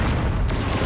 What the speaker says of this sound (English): So many missiles.